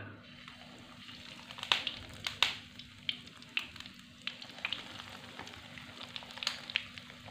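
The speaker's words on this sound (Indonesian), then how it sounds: "Coba kita goreng dengan minyak yang sedikit bagaimana hasilnya." Risoles fry in a little oil in a pan, giving a steady low sizzle broken by scattered sharper crackles and pops, close by, with no talking.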